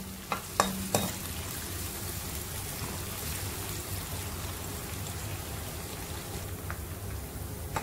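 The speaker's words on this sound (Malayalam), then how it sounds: "സവാള രണ്ട് പ്രാവശ്യം ഇട്ടിട്ട് വറുത്തെടുക്കാം." Onions frying in ghee for a mutton biryani: a steady, dense sizzle with a few sharp clinks of a utensil against the pan near the start, then continuous crackling frying with no voices.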